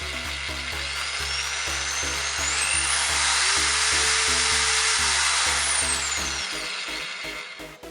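A household power drill runs steadily with a smooth, high whine, its pitch rising as it revs up and falling away at the end, loud and close with no talk.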